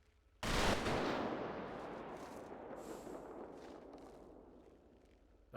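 Honor guard rifle volley in a role-play video game: a single loud, sharp crack of simultaneous shots opens the clip, followed by a long rolling echo that slowly fades.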